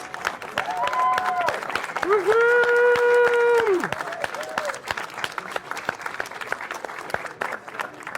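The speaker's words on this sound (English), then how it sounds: "Give him a big round of applause." A Hall of Fame induction crowd on opening day claps steadily in a sustained round of applause, while a loud sung or held voice tone rises over it midway before the clapping continues alone.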